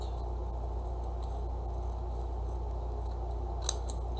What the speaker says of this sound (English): And then I'm going to trim it across